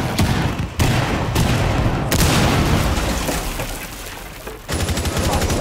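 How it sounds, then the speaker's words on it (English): Cluster charge detonating in Rainbow Six Siege: a rapid series of loud, sharp blasts and booms going off in sequence, close and dominant, with a faint crackle between bursts. "Cluster charge going up."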